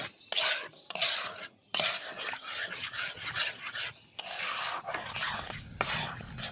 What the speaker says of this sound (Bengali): এবার আমি গুঁড়ো দুধটাকে ভালো করে মিশিয়ে নেব।